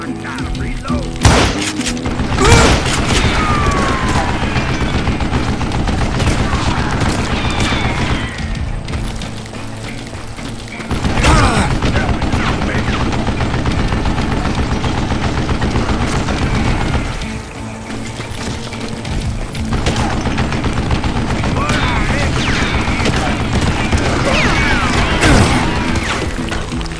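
Sustained heavy fire from a mounted gun worked by an old man in the Western shooter Call of Juarez: Gunslinger, rapid loud thudding bursts with booms that run almost continuously, broken by a couple of short pauses.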